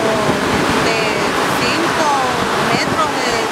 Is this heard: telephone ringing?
no